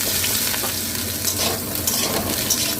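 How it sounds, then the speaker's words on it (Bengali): Cauliflower shallow frying in mustard oil, a dense continuous sizzle and crackle close up with occasional stirring scrapes in the pan, no talk. "এবার আমি ফুলকপিগুলো স্যালো ফ্রাই করে নিই"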